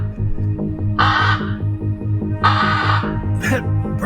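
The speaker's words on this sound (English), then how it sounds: "That bird, it's sitting directly on top of my house" A bird perched on top of a house caws loudly and nearby, two long harsh caws and a shorter third, over a steady low hum.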